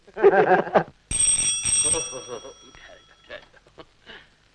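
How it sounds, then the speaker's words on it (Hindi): A bright electric bell rings in two short bursts, sandwiched between people talking before and after it. "डॉक्टर की घंटी बज रही है।"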